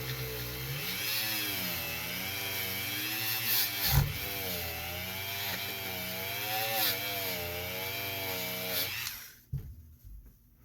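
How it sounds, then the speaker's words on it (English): A Dremel rotary tool polishes a firearm trigger group, its steady high whine wavering in pitch as it presses against the metal, with one sharp tick near the middle, before the motor cuts out and spins down. "we're just gonna get after it with the old Dremel, man"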